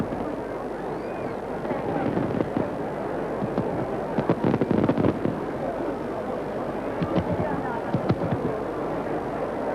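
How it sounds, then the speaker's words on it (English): Star shell fireworks launch at a 1980 city celebration display beside an exhibition lake in front of a science museum in Newcastle, giving scattered sharp pops and crackles over a steady windy, rumbling outdoor background. "And there go the first star shells into the sky."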